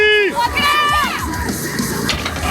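A loud crowd at a winners' event cheers and yells together, with high whoops and shouts rising over a dense roar of voices.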